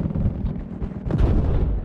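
Gunfire in Battlefield 4, heavy booming shots and rumbling blasts rolling together in a dense, loud burst throughout.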